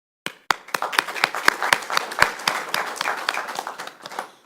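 Hands clap at a regular board meeting honouring Martin Luther King Jr.: a few loud, evenly spaced claps up close that quickly thicken into fuller applause from several people before tapering off.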